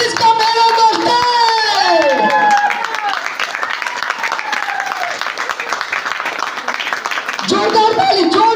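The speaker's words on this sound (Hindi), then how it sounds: "जोरदार ताली दोस्तों।" Applause at a stage event in India as a new senior member is welcomed, with claps rising into a loud, close crowd sound while someone talks over it over a microphone.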